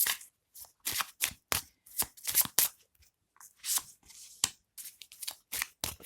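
Tarot cards shuffled by hand in a quick run of crisp, close riffles and taps, separated by brief silent pauses, with no voice.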